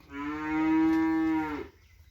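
A bull lets out a single long, resonant moo, loud and close, swelling and fading over about a second and a half with no other sound around it.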